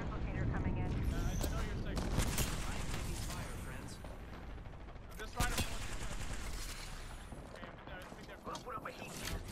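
Video game gunfire crackles in dense, continuous volleys with sharp individual shots standing out, loud and close throughout.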